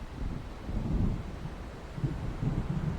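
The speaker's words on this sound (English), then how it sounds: "It seems there's a storm coming." Low, rolling rumbles of thunder from an approaching storm in the video game Alan Wake Remastered, heard as soft, distant swells over a steady windy wash with no speech.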